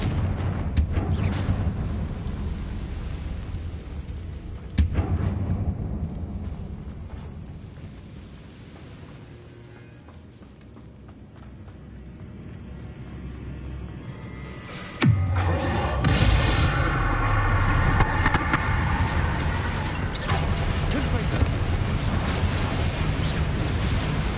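Confringo blasts and spell effects in Hogwarts Legacy: a loud booming burst near the start, another sharp bang around five seconds, and a heavy explosive impact at fifteen seconds followed by a dense rumbling roar.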